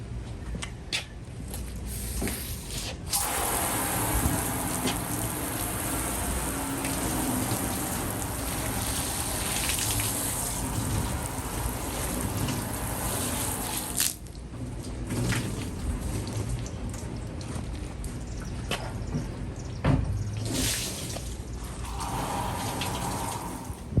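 Water sprayed over an old neglected metal tool box from a barn, a loud continuous hissing wash with a few brief breaks where the spray stops and restarts, close by and with no talking.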